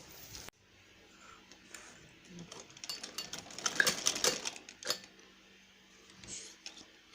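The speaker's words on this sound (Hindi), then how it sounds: "फिर हम यहाँ पे सिलाई लगाएंगे।" A sewing machine stitching frock fabric, running in a short busy burst of rapid mechanical clatter through the middle, fairly close and moderately loud.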